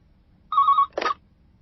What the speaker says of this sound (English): Suddenly, the phone in my office rang.